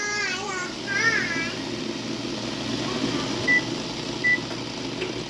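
A kitchen timer on a stovetop canning setup for green beans gives two short, clear electronic beeps in a row, faint against a steady low hum and soft room noise.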